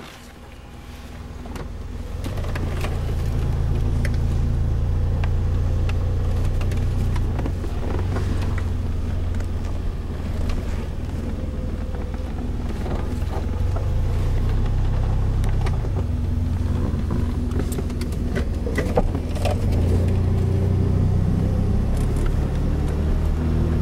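A near-mint 1981 DeLorean drives along, its engine building to a steady, loud drone with wind and road rumble that holds throughout, without talk.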